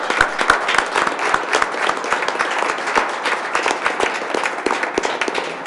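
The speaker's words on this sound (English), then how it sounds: "I want to give them a round of applause for participating" A school board meeting audience claps for East High School students, a dense, steady round of applause close by that holds for several seconds with no voices over it.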